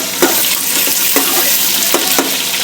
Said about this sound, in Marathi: कांदा छान परतून घ्यायचा, ब्राऊन मिक्स करायचा